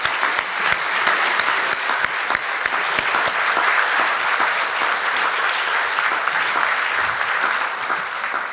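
Sustained audience applause at a city government's State of the City address, a dense, steady wash of many hands clapping with no talk over it.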